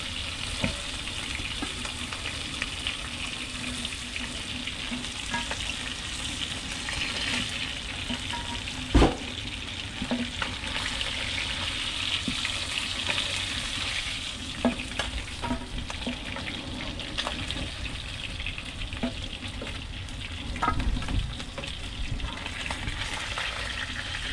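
Fish frying in a pan, a steady close sizzle and crackle of hot oil running throughout, with occasional clinks and stirring knocks, no talk.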